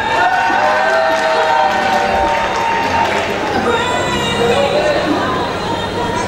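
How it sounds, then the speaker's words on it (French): Audience at a Miss Oise 2021 beauty pageant applauds and cheers, a dense crowd wash with chatter mixed in, loud and continuous. "Applaudissements pour Camille."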